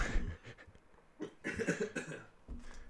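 A few rough coughs in bursts, close by, with short pauses between them and no talking.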